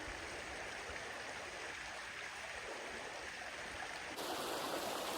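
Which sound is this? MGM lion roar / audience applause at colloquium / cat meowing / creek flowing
creek flowing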